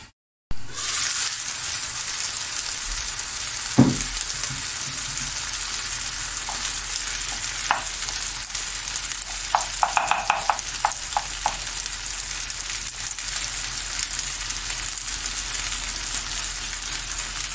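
Rice filling for stuffed vine leaves sautés in a pan, giving a steady soft sizzle throughout, with a few brief stirring clicks and a light knock near the start.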